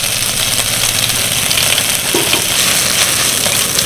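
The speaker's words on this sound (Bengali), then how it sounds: "আদা আর 5 ফোড়নটাকে হালকা করে ভেজে নিলাম" Grated ginger and panch phoron of fennel, coriander and mustard seeds fry in hot oil, a dense continuous sizzle close by with faint crackles and a low steady hum beneath, no talking.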